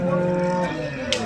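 Buffalo at a busy livestock fair give a long, loud, droning low moo that fills the clip, with crowd noise underneath and a brief sharp sound near the end.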